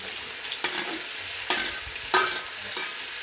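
Tomatoes are stirred into browned onions frying in a pan for a vegetable biryani. A steady sizzle runs underneath while a spoon makes several distinct scraping strokes at an irregular pace, close and clear, with no voices.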